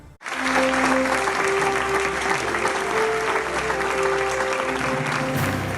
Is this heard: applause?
yes